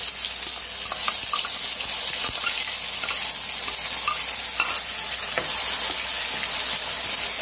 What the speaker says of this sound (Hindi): प्याज और लहसुन के पेस्ट को अच्छे से हम फ्राई कर लेंगे